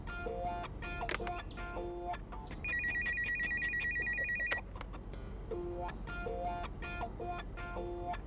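A telephone rings with repeated electronic bursts in a comedy film scene. A brief sustained tone sits in the middle of the ringing over a low background hum.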